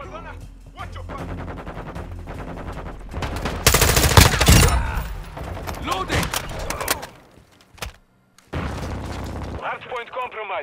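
Call of Duty Modern Warfare 2 multiplayer firefight at a hardpoint: loud bursts of automatic gunfire and booming blasts, densest around the middle, mixed with game voice callouts and music, then a brief lull before more shooting.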